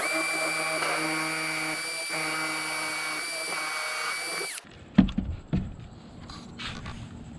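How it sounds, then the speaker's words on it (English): A power drill runs steadily, driving a screw into a wooden bed platform with a continuous whine, then cuts off into a few close knocks and clatters of handling. "So all we do now is get our drill."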